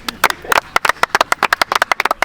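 Players from an Australian Sunday league football team clap together in a quick, uneven burst of many sharp, close handclaps.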